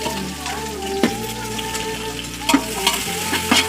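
Onions frying in a pan, a constant close sizzle broken by several sharp clinks and scrapes of stirring, loud and with no one speaking.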